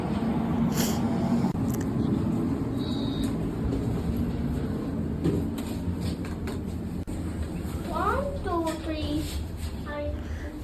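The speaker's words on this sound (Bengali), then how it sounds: "এরপর যাবে এই ট্রেনটা ম্যালমো সেন্ট্রালে" A train at Triangeln station in Malmö rumbles steadily with a broad hum, while people talk nearby and a brief high electronic chirp and rising tonal signals sound toward the end.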